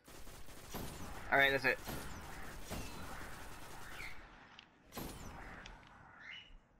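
Gunfire from a shooter video game, several separate shots spaced a second or two apart at a low level, while someone talks.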